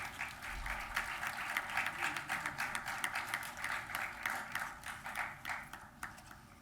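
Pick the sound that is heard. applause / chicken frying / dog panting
applause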